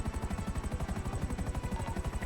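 A helicopter in GTA 5 roleplay hovers nearby, its rotor beating in a steady, rapid thump that continues loud and unbroken throughout, with no voices over it.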